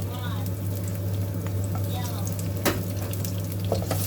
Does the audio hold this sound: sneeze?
no